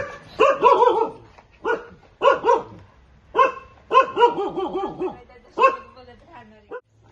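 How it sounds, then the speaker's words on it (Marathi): A dog barks in repeated bursts of sharp, harmonic yaps, several in quick succession with short pauses, fairly close and loud over a quiet background. "कुत्रा नुसता भुकतं"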